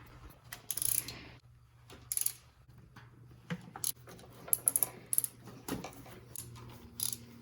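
Short bursts of ratchet clicking up close, loosening bolts on a 3.8-liter Mustang engine during lifter replacement, separated by brief pauses, over a low background hum.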